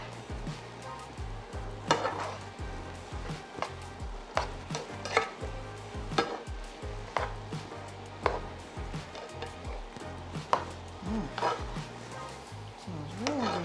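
Tomatoes are stirred into a vegan ackee mixture in a pan, giving a soft sizzle under repeated light scrapes and taps of a spoon, fairly quiet and close.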